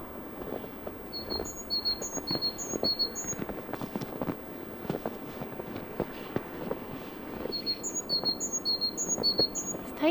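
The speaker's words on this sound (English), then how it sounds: "found the bird that's making that noise" Two bursts of high, rapid chirps from a tiny bird in snowy woods, each a quick run of thin notes, over rustling and faint background noise.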